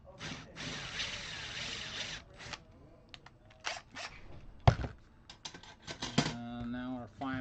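Power drill boring holes through a ukulele body, stepping up to a 7/16 bit, heard as bursts of whirring drilling with pauses, clicks and handling noise in between, fairly close.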